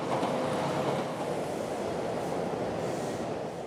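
A Tokyo commuter train rumbles past close by, a loud, steady roar of rolling wheels and rattling carriages that holds for several seconds and eases off a little at the end.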